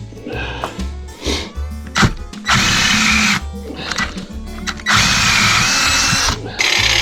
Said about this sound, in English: Make my hole a little bit bigger with a little bit bigger drill bit.